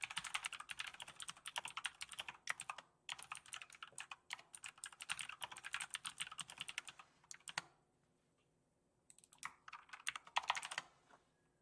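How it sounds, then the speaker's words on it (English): Rapid typing on a computer keyboard in bursts of quick clacking keystrokes, close and fairly loud, with a brief pause of near silence before the tapping resumes; no one speaks. "am I like looking at the keyboard while I type?"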